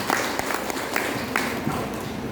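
Audience applause during a church sermon, a dense wash of many hands clapping at once, steady and fairly loud for a couple of seconds.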